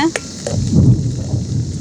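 Thunder rumbles low and heavy with steady rain hissing around an outdoor wood-fired stove where onions are frying for a curry leaf thokku, the rumble swelling midway and easing off.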